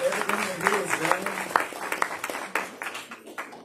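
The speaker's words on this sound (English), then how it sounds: "Can we give God a hand clap of praise" A church congregation gives a round of hand clapping in praise during worship, a scattered burst of claps that thins out, with voices murmuring underneath.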